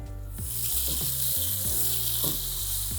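Chopped onion and tomato stir-fry in a pan over a high flame, giving a loud, constant sizzle with a low tonal hum running underneath.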